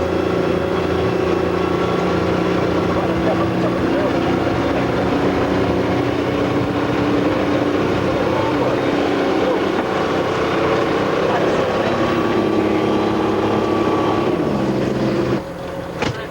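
Amphibious vehicle from the Braddock TR Group at Leconsfield driving through water, giving a steady, dense engine drone with churning splash, continuous and fairly loud before cutting off near the end.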